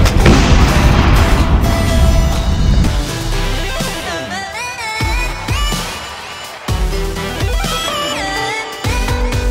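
A rapid series of loud booms and gunshot-like bursts, some echoing and others sharp, layered with ringing tonal effects and barely any pause between them.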